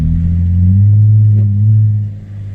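A car interior on a snowy road during a snowstorm, with a loud, steady low engine and tyre rumble that swells slightly as traffic passes, then eases toward the end.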